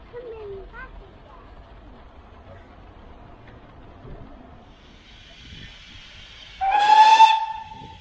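Quiet background with faint murmurs, then a loud, breathy steam train whistle blasts near the end, hissing and sustained for about a second, at the Great Central Railway's Quorn and Woodhouse station.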